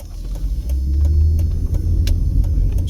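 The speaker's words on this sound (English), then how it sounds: "We're gonna make a left here onto Judson Street while we continue our ASMR video driving East Las Vegas." A car drives through an East Las Vegas street and turns left, its engine a steady low rumble with road and tyre noise close by, no voices present.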